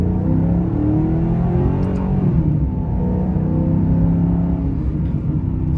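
A 2009 Maserati GranTurismo engine pulls under throttle while driving, a deep steady rumble with rising and falling engine tones, loud and close from start to finish.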